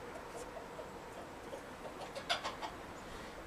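Chickens clucking in a backyard garden bed: a few faint, short clucks surface near the middle of the clip over quiet outdoor ambience.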